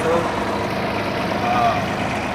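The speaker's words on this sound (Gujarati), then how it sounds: "આ મારું ટ્રેક્ટર છે" A farm tractor's diesel engine runs close by at a steady idle, a low, even rumble that holds unchanged through the short stretch.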